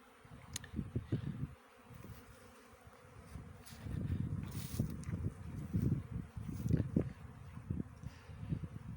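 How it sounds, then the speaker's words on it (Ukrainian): Honeybees at an apiary on a mild winter day during a cleansing flight, a steady close buzzing drone that swells and fades with many insects in the air, light wind noise behind. "Пасіка просто гудить"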